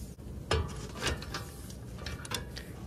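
Ratchet breaking loose a 3/4 brake caliper bolt on a Toyota Tundra during a brake pad change; a few close, sharp metallic clicks and clacks over a steady shop background, with no talking.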